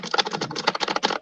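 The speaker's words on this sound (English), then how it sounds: "you just beat that keyboard up like it stole something" Rapid, hard typing on a computer keyboard, a dense run of sharp key clicks in quick irregular rhythm, close and fairly loud with no voices.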